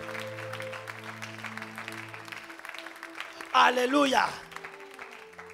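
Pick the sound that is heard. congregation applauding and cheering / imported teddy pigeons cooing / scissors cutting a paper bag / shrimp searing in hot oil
congregation applauding and cheering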